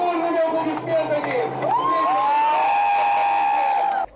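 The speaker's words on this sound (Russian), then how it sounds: "Дорогие друзья, давайте бурными аплодисментами!" Audience at a ceremony laying a star on Russian Cinema Day in Sochi claps and cheers loudly and steadily for about four seconds, mixed with shouts and high whistle-like tones.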